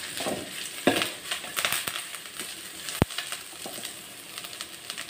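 Grated coconut with turmeric fries in a pan for Mangalore-style chicken sukka, a steady close sizzle broken by scraping stirs and a few sharp clinks, including one crisp tap midway.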